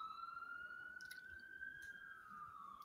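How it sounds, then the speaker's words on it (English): An ambulance siren from a nearby dispatch station wails faintly outside, one long rising and falling tone carrying steadily in the distance. "benefits of living next to an ambulance dispatch"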